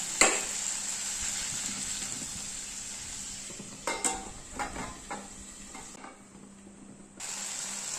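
Tomatoes sauté in a pan on a low flame for tomato chutney, a soft steady sizzle broken by a cluster of spoon scrapes and pan clatters partway through, close and quiet without voices.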